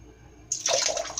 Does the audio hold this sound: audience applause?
no